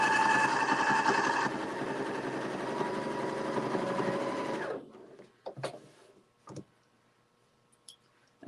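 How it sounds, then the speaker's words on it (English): A sewing machine stitches a dart through quilt batting with a fast, steady mechanical whir that runs for several seconds and then stops, followed by a few scattered soft clicks and handling taps. "So we'll stitch this dart in here, right sides together at 1/4 inch inside the batting."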